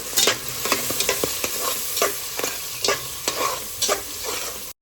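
Chopped hot green chillies and turmeric go into a frying pan of oil for a vegetable khichdi, giving a continuous sizzle broken by repeated sharp scraping strokes of a spoon stirring in a steady rhythm, with no voices.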